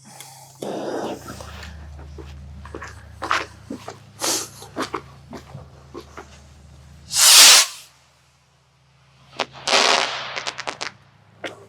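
A small split wing firework by Showtime goes off outdoors with a series of sharp pops and crackles, then a loud hissing whoosh. Another burst of spraying hiss comes after a brief quiet gap.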